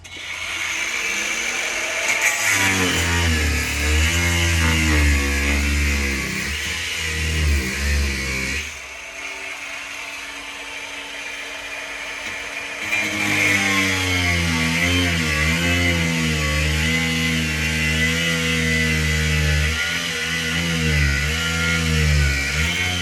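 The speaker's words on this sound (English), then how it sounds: "So I just cut that along there with the grinder" An angle grinder cuts along an old stair tread. Its loud, high motor whine rises and falls in pitch as it bites into the material, then drops away briefly before the cutting resumes for the rest of the stretch.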